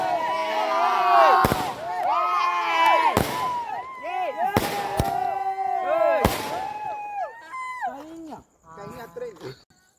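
Firecrackers bursting at a home Vishu celebration, several sharp loud bangs spaced across the span over ringing, whistling tones and a busy crowd of voices.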